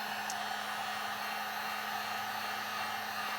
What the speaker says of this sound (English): I'm using just a cheap hardware store heat gun, and I'm using it in the high heat mode